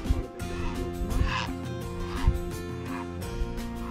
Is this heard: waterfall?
no